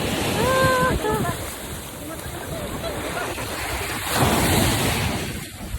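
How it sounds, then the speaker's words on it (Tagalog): Loud, rushing surf and crashing waves fill the clip over blustery wind, with a brief high voice near the start. "Grabe, ang lakas ng alon."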